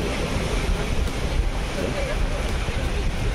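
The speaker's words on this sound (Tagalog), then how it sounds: "Mataas ang dagat, tataas pa po yan, oh. Tataas pa po yan. Pasukin talaga ang dagat." Stormy sea waves surging toward a house during a typhoon, a steady heavy roar of surf and wind noise buffeting the microphone throughout.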